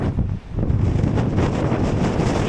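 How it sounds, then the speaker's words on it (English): Strong wind buffets and roars across the microphone continuously at a mountain summit, a loud, dense rushing with no voices. "look how windy it is"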